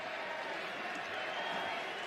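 Crowd noise in a football stadium during a Barcelona vs Leicester International Champions Cup match rises as Messi gets a chance on goal: a dense, steady roar of many voices, loud and continuous throughout.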